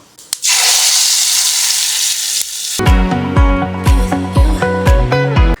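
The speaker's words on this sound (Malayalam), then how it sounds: "ഞാൻ അതിൻ്റെ ഫ്ലെയിമൊക്കെ ഓഫാക്കി കറിയിലേക്ക് ഒഴിക്കാം" Fried onion, dried chili and curry leaf tempering poured into a curry sets off a loud, hissing sizzle lasting a couple of seconds, then cuts out as rhythmic music takes over.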